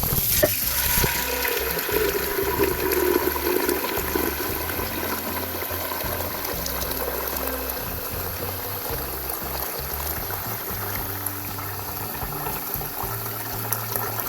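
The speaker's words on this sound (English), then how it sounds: "now I'm going to fill the pasta pot up with some water" Tap water runs steadily into a pasta pot being filled at a kitchen sink, a continuous rushing fill heard alone throughout.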